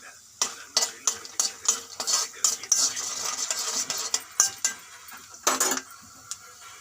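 Peanuts and curry leaves fry in oil for a gourd stir-fry while a spoon stirs them, scraping and clinking against the pan in an uneven rhythm over a soft sizzle, close up.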